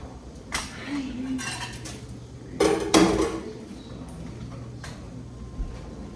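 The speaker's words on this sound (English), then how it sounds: "these knives I hand wash" Kitchen knives and dishes being washed by hand, with scattered metallic clinks and clatters, a couple of sharper knocks mid-way and running-water hiss, close by with no talk.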